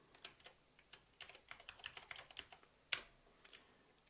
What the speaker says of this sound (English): we can simply type them in